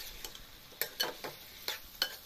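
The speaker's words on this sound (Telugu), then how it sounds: "ముందుగా ఉప్పు కారం పట్టించి ఉంచిన చికెన్ వేసుకొని కలుపుకోవాలి" Chicken coated in salt and chilli powder being stirred in a hot pan: a faint steady sizzle broken by several scraping stirs at irregular intervals, close and fairly quiet, with no talking.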